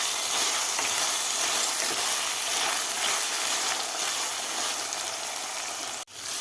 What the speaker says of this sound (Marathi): आता टोमॅटो सुद्धा सॉफ्ट होईपर्यंत आपल्याला परतून घ्यायचं आहे.